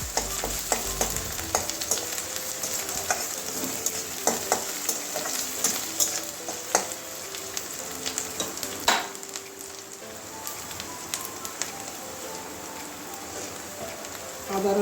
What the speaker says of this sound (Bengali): এবারে আদা রসুনের পেস্টটা দিয়ে দিচ্ছি, একসঙ্গেই পেস্ট করা আছে। এটা হালকা ভেজে নেবো